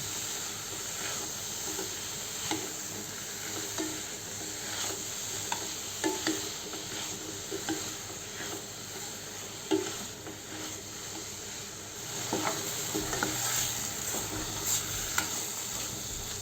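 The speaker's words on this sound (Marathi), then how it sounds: "किसलेली पनीर घालू, आणि छान फिरवून घेऊ।" Grated paneer frying in a pan for bhurji gives a steady, quiet sizzle under intermittent soft scrapes of a spatula as it is stirred, close and with no voices.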